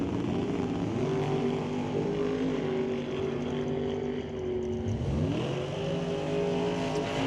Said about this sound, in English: 700 cubic inch big block Ford under the hood.